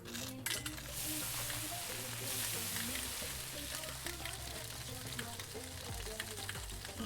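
Onions and chili frying in a pan in the cooking game Venba, a steady, dense sizzle running the whole time, loud and continuous with crackling texture over a low musical bed.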